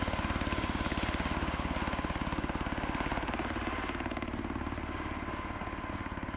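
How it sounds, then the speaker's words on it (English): A helicopter in the video game Road to Vostok passes directly overhead, its rotor chopping in a fast, steady beat over a loud engine whine that fades slightly toward the end. "I can't really hear myself right now with the helicopter over me"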